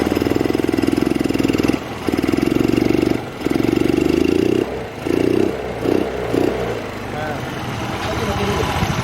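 A Honda Vario 110 scooter with a carburetor fault is revved while the intake is covered by hand, its engine droning loud and close with repeated rises and dips as the throttle is blipped, and a voice talks over it.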